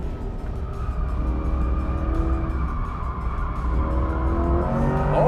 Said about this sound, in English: let's go autocrossing in the heaviest Corvette ever.